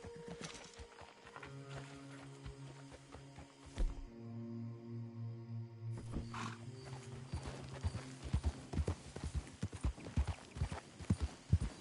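Horse hooves clip-clop in Red Dead Redemption 2, a steady walking rhythm of sharp, close hoof strikes that pauses briefly and then resumes faster over a low ambient game background.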